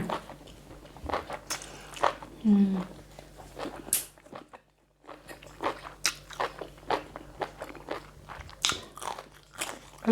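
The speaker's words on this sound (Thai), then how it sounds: "เสียงหนังหนังกรุบกรุบ" Crisp crunching bites and chewing of crunchy skin come close up in irregular bursts, with a brief pause midway before the munching resumes.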